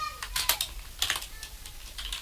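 Computer keyboard keys tapped in short bursts while code is entered in C#, a few quick clusters of clicks close up with brief pauses between them.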